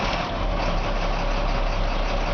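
A GMC TopKick C7500 4x4 bucket truck engine runs at a steady, loud diesel idle with a constant low rumble and no change across the short stretch; no voices.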